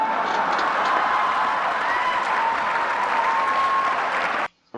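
A comedy club audience breaks into loud, sustained applause, a dense wash of clapping that continues steadily before cutting off abruptly near the end.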